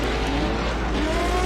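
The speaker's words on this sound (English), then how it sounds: "Just need to catch up to the Porsche in front, and that purple car, that's another Lola T70 Mark III." Historic 1960s prototype race cars, including a Lola T70 Mark III and a Porsche, race at Watkins Glen, with a loud steady engine roar heard from inside or close to the car.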